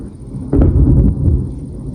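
A deep, loud rumble of thunder rolls in suddenly and lingers for a couple of seconds, with no voices.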